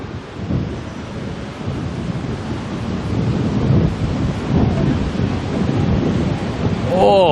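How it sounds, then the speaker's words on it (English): Strong wind buffets the microphone at night at Auckland Airport, a loud continuous roaring rush that swells and gusts throughout, with no voices. "We're getting beaten up on the wind tonight."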